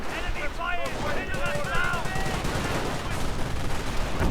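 Bren guns and Lee Enfield rifles firing in a World War II strategy game battle against German half-tracks: a dense, continuous barrage of gunfire with machine-gun bursts, mixed with battlefield noise and short whistling tones.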